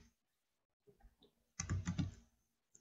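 Fingers tap a computer keyboard close by in a quiet room, a few scattered keystrokes followed by a quick dense cluster of clicks and a last lone tap.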